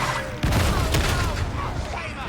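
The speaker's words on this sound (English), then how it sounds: "I just unloaded a whole mag into one random heretic." Gunfire from Warhammer 40,000: Darktide, a loud sustained burst of rapid shots with a heavy onset, dense and continuous over game background noise with no talk.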